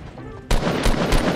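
Rapid bursts of gunfire in Fortnite during a duos match, starting abruptly after a quiet moment and pounding on in repeated close, loud blasts with a few stronger peaks.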